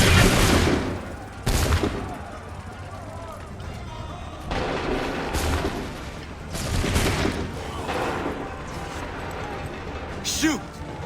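A musket volley goes off in Assassin's Creed 3, with several loud, booming bursts of massed gunfire spread across the stretch. The blasts rumble and echo between them, and a sharp ringing shot comes near the end.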